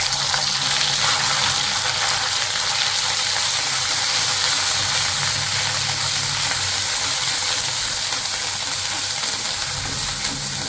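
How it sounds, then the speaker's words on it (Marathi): Ground masala sizzling in hot oil while tempering moong and matki sprouts, a loud, dense, unbroken crackling hiss close by throughout. "आता आपण मसाला पण त्यात घालूया"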